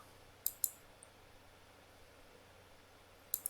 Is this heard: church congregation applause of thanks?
no